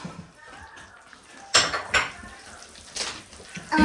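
Flour and baking powder for Artvin-style cornbread dough are mixed in a bowl, heard as a few sharp clanks and scrapes of a utensil against the dish over a quiet background.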